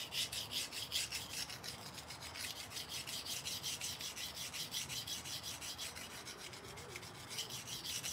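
A blade is stroked back and forth across a sharpening stone in a steady rhythm of rasping scrapes, close and continuous.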